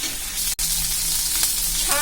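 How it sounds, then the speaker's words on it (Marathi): Fresh coriander sizzles steadily in hot oil while frying for chivda, a constant close crackle with one brief drop partway through. "छान कोथिंबीरही तळून घ्यायची।"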